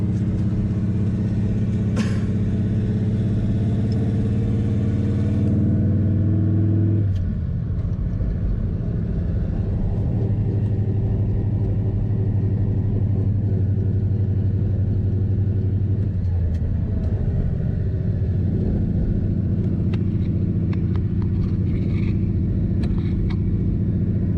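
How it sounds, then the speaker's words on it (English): A 1976 Dodge D100 pickup with a 440 engine and manual transmission drives along at a steady engine drone, which drops sharply around a downshift and shifts again later. The rumble is constant and close. "we're downshifting"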